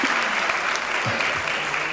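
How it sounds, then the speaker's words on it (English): An audience applauds and cheers at a Columbia School of Journalism forum, a dense wash of clapping that is loud and close, with a few vocal cheers mixed in, lasting the whole moment. "You can applaud and cheer for me as much as you would like."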